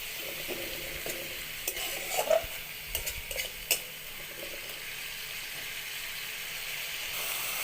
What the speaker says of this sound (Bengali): হলুদের গুঁড়ো অল্প একটু জল দিয়ে ভালোভাবে কষিয়ে নিচ্ছি